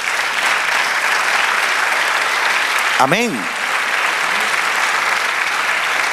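A church congregation applauds the Lord during a sermon, steady loud sustained clapping throughout, with a single voice speaking briefly over it midway.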